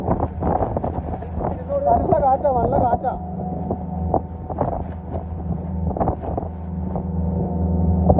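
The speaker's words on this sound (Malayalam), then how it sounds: "നല്ല കാറ്റാ" Strong wind buffets the microphone in gusty rumbles over a droning Tohatsu outboard engine on a fishing boat, with people talking loudly at times.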